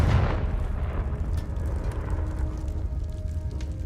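Confringo blasting spell explosion in the video game Hogwarts Legacy: a deep boom at the start decaying into a rumbling tail, with a low ongoing roar beneath.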